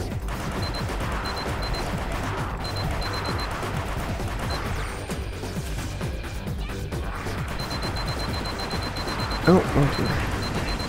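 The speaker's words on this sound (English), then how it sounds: "Oh, grenade." Gunfire and a grenade explosion in the video game Gunz, a PvE match, with steady shooting throughout and a sharper blast near the end. Someone talks briefly over it.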